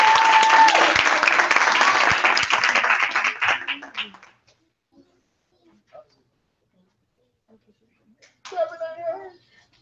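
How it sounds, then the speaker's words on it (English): A room at a Vacation Bible School applauds the junior ladies, loud mixed clapping that fades out over about four seconds, then near silence before a voice speaks briefly. "Give a round of applause for our junior."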